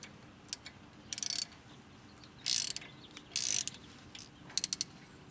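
A bolt on a BMW E36 rear brake is tightened with a 6 mm Allen key, giving short bursts of crisp ratcheting clicks separated by quiet pauses.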